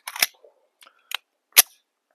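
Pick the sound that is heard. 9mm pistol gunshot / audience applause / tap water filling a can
9mm pistol gunshot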